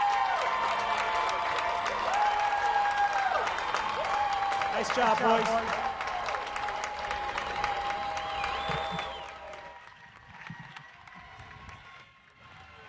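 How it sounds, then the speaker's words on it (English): A crowd applauds and cheers the Wisconsin rugby team at the USA Rugby Division II championship, sustained clapping under a voice over a loudspeaker, fading out near the end. "Let's give Wisconsin one more big round of applause."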